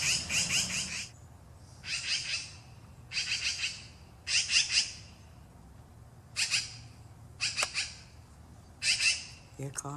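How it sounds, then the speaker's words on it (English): Magpies calling: harsh, rasping squawks in short bursts separated by pauses, fairly close, over a low background hum. "If there's like a translator for what the birds are saying,"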